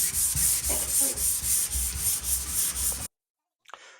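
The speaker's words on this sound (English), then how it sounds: "you're not sanding wood, you're sanding Bondo on a car" Hand sanding of Bondo body filler on a 1967 Firebird 400, steady rhythmic back-and-forth scraping strokes of sandpaper close to the microphone, cutting off abruptly before a brief faint rub at the end.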